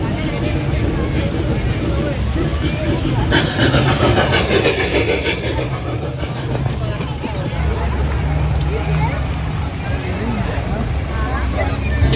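A small tourist train on International Drive rumbles and clatters past nearby amid outdoor crowd noise and chatter, with a steady rolling rhythm.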